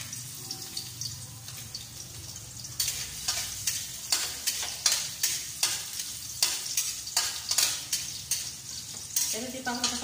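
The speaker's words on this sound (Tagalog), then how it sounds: "so nilagyan ko na siya ng mantika. At igigisa ko na yung ating bawang" Garlic and onion sautéing in hot cooking oil in a home kitchen, a steady close sizzle broken by frequent scraping stirs, while ampalaya with eggs is being prepared.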